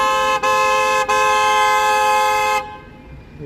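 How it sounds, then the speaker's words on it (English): Car horn blasting on a Toronto street on a warm spring afternoon: two short taps followed by a long, loud, sustained honk held for over two seconds, close by, then cutting off to street ambience. "Look at this guy just honking his face off here."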